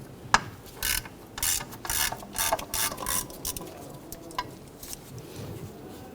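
A ratchet wrench spins out an 11 millimeter bolt from the valve cover of a 1997-2006 Jeep Wrangler, giving a series of quick, close clicking bursts with short pauses between them.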